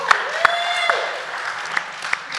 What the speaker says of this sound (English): give Joe a nice round of applause